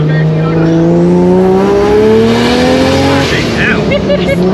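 A Toyota Land Cruiser 80 Series engine revs hard and climbs steadily in pitch as it accelerates, loud and close, with a brief voice at the end.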